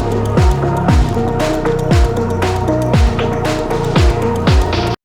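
Electronic dance track section just before the second drop, with a dense crystallized atmospheric layer over repeating deep bass hits sliding downward roughly once per second, loud and full, cutting off abruptly at the end.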